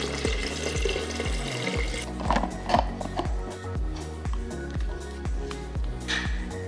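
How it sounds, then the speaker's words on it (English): Tap water pours into a large 64-ounce water bottle, a steady rushing splash with rhythmic glugging pulses as the bottle fills, close and fairly loud, without talk. "I'm gonna fill my water and we'll get started"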